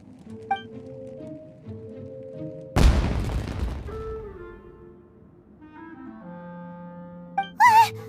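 A sudden loud blast like fireworks erupts in Genshin Impact gameplay, a sharp boom that decays over about a second amid soft tonal game music, with a brief bright burst near the end.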